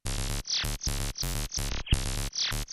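A gritty Laser Bass synth in Reaktor plays a short repeating sequenced pattern of punchy notes with pitch sweeps, loud and close with no voices.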